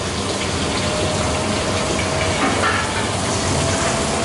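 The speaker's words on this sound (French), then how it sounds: "on entend le beurre qui chante" Butter foaming and sizzling in a hot pan while frog legs are being prepared, a steady dense crackle with fine bubbling that holds at an even, fairly loud level throughout, no voices.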